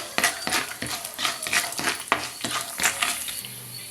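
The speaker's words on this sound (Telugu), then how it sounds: "ఒక స్పూన్ పచ్చిశనగపప్పు మినప్పప్పు ఆవాలు జీలకర్ర వేసి తాలింపుని వేయించుకోవాలి" Chana dal, urad dal, mustard seeds and cumin tempering in hot oil, with a steady crackling sizzle broken by repeated scraping and stirring clinks of a spoon against the pan, close and fairly loud, no voices.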